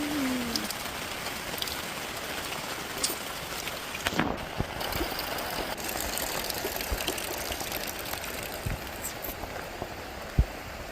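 Steady heavy rain drums on surfaces nearby, with scattered louder drips and knocks and a faint low hum beneath.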